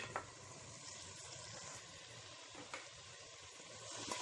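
Mutton trotters (paya) sizzling with spices in a pan over medium-high flame, a soft steady frying hiss with a couple of faint stirring clinks, quiet and close.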